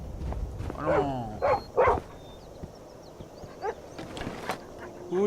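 A dog in Skyrim gives several short barks and yips close by, then softer whimpering sounds, with someone talking over and between them.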